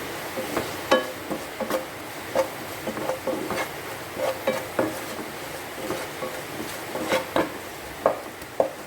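Spices sizzling in oil in a pan for a Kerala-style ivy gourd and potato stir-fry, a steady soft frying hiss broken by regular scraping stirs of a spoon against the pan, close and moderately loud with no talking.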